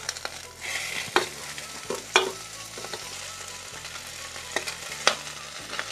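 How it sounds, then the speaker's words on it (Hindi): Onion and cabbage stir-fry in a pan with a constant sizzle, while a utensil scrapes and taps the pan at irregular intervals, close and fairly quiet, with no one talking. "प्याज को एक मिनट तक हम भून लेंगे। फिर डालेंगे पत्ता गोभी,"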